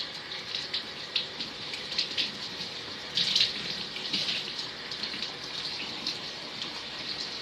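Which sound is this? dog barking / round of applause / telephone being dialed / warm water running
warm water running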